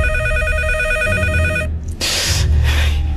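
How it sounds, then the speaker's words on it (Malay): A mobile phone rings out loudly while calling the next-door neighbour, a repeated electronic ring pattern followed by a brief burst of noise as the tone cuts off. "Saya mengeluarkan telefon bimbit saya dan saya telefon Cik Na, jiran sebelah rumah saya"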